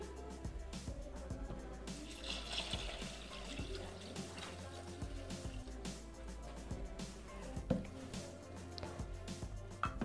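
Water is poured into a Thermomix TM6 bowl holding lentils and a stock cube. It makes a steady running, splashing stream for about ten seconds, with a few small knocks, quiet and close.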